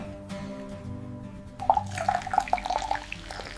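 Fish sauce dripping into a dish, a short run of about eight distinct, fairly close drips in an irregular rhythm following a quiet moment.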